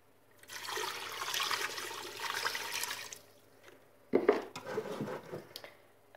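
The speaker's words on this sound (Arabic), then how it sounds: "غادي نضيف الماء" Water pours into a pot of chicken pastilla filling in a steady splashing rush, followed by clinks and knocks of a pan and utensils, close in a kitchen.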